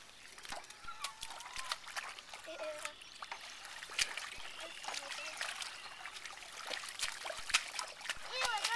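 Feet slosh and splash repeatedly through shallow, warm water beside a cattle fence, a steady irregular run of soft splatters and trickles heard fairly close, with no one speaking over it.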